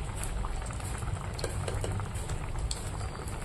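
Cumin seeds and bay leaves tempering in hot oil, giving a steady close hiss of sizzling with scattered small pops and crackles; no one speaks.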